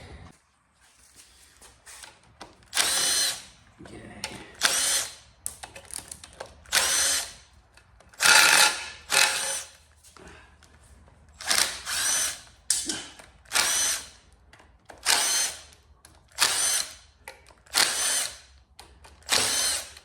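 A power tool with a socket backs out bolts on a 454 big block engine being stripped, giving about a dozen short whirring bursts at a steady pace with quiet gaps between them, close and clear.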